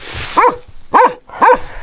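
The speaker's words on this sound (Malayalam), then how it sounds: "ഈ പട്ടികളെ കൊണ്ട് ശല്യം" Three distinct dog barks ring out at a steady, spaced rhythm, fairly close, with a faint hiss of background noise between them, at a campsite in Mongolia.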